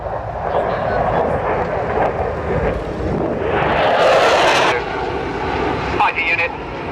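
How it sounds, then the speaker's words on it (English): A Soviet MiG-29 fighter jet flies a display at an air show at RAF Leuchars, its engines giving a broad, continuous roar that swells midway, with a commentator talking over it. "this is a demonstration of one of the hitherto best known Soviet fighter designs, the MiG-29"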